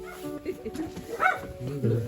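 A dog barks once sharply amid low background noise and people talking quietly nearby, with a few fainter yips around it.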